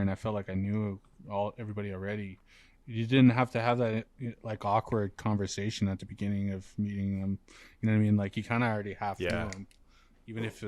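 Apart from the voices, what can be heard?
None of the usual background noises is heard.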